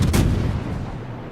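Ship guns fire a heavy salvo in the naval battle game World of Warships, one booming blast up front that rolls off into a long fading rumble, heard alone.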